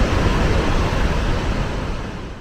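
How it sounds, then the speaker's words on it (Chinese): Roaring river water surges through Tiger Leaping Gorge, a loud, steady broadband rush that fills the whole stretch without pause and eases only slightly toward the end. "这河水声音太大了"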